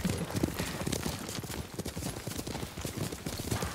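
Galloping horse hooves in the video game Ghost of Tsushima, a steady rapid clip-clop rhythm running continuously at moderate volume beneath faint game ambience.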